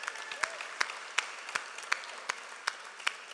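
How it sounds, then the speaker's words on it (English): Sparse applause at an evening debate on whether humans are good, a few scattered hand claps recurring at a steady pace, soft and moderately distant, with no talking over them. "So give yourselves a nice round of applause."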